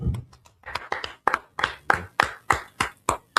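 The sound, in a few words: audience clapping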